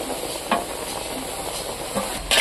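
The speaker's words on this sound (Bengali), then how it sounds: "মশলাগুলো আমি ভালো করে মিক্স করে নিচ্ছি" Rice in a pot being stirred together with cumin paste and ginger paste, giving a soft continuous scraping and mixing texture with a few sharper spoon knocks against the pot, close and moderately loud, no talking.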